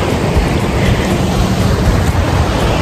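Ocean waves at high tide wash in a steady, dense roar along a beach, a continuous wide rush of surf with no break and no voices.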